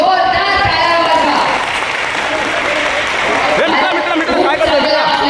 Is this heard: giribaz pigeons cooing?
no